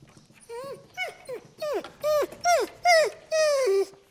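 A restless gun dog whines repeatedly during hold-conditioning training, about eight rising-and-falling high-pitched whimpers in a steady rhythm, close and fairly loud with no talking.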